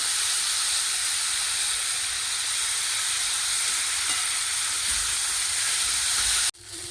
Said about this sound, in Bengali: আমার সয়া শাকের ভাজা হয়ে গেছে